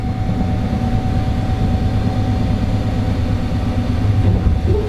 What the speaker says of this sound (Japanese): 列車は今藤沢という駅を通過します。